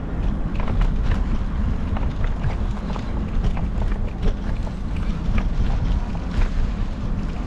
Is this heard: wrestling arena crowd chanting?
no